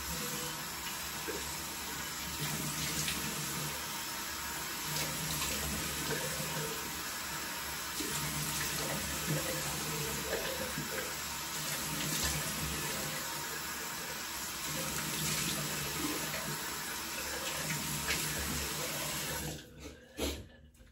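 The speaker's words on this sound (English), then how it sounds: "let's go ahead and splash some more water on my face" A bathroom tap runs steadily for a long stretch while water is splashed onto a face before shaving, a constant hissing stream with small splashes that stops abruptly at the end.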